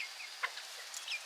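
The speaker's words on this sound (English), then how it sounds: "These crazy chickens, they try to walk right through the fence." Chickens clucking near a garden fence and compost heap, giving a few faint, scattered short calls over a quiet outdoor background.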